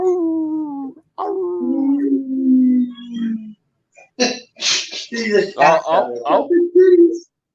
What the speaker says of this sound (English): there's a dog baying in my yard.